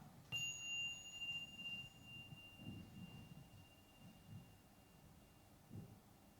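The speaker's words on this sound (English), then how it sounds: "So I'll ring the bell at the beginning and the bell at the end." A mindfulness bell is struck once near the start, giving a clear ringing tone that sustains and slowly fades over several seconds in a quiet room with faint background noise.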